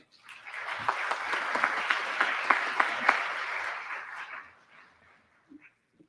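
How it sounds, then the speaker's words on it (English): An audience applauds honored scholars at a 2024 honors program, a swelling round of clapping that builds quickly, holds steady for about four seconds, then tapers to a few stray claps. "I will ask that you guys all give these scholars a round of applause real quick, please."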